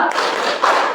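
A group claps out a cheer rhythm together during a classroom lesson, a dense, steady burst of overlapping hand claps lasting about a second, with a slightly louder surge near the end.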